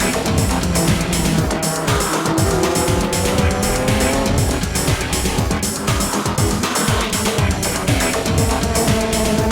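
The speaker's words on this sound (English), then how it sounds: "The Esso Supra with Wakisaka right behind the AU Supra" Toyota Supra race cars, including the Esso and AU Supras, battle in a JGTC Japanese GT championship race, their engines a loud, continuous close roar with shifting pitch and occasional tire noise throughout.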